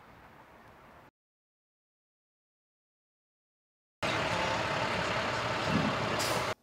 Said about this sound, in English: It doesn't take long to fill up recycle trucks like this